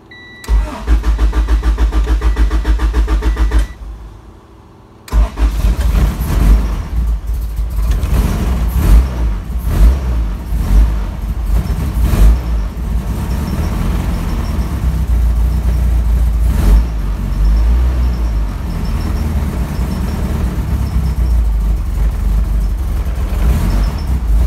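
A Honda H22 engine in an EG Civic with an overheating problem cranks, stops briefly, then fires up and settles into a loud, rough, steady idle close by. It keeps running throughout with no voices.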